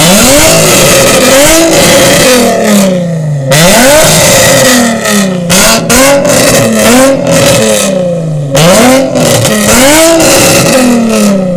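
Loud car engine revving repeatedly at a Cars & Coffee meet in Morrisville, each rev rising sharply then dropping, close by with a throaty exhaust and no talking.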